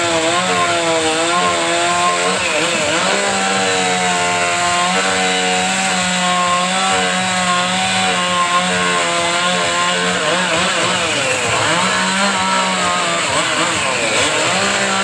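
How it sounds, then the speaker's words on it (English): A powerful chainsaw with a small bar carves into a wood block, its engine screaming steadily and close, the pitch rising and dipping as the cut loads and frees it. "She's using a really powerful chainsaw with a small bar."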